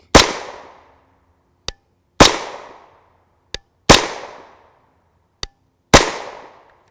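Four loud, sharp subsonic 9x19mm reports from 151gr FMJ rounds fired through an Evo, spaced about two seconds apart, each with a quick decaying tail and a faint metallic click between shots.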